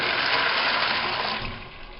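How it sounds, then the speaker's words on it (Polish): A large amount of water poured over small dry beans, a loud, close, continuous gushing rush that eases slightly toward the end, with no speech. "Zalewam ją dużą ilością wody"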